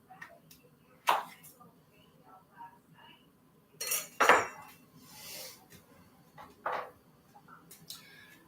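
Scattered light clinks of a utensil against a plate while butter is spread on pancakes, a few isolated taps and scrapes spaced apart in a quiet kitchen.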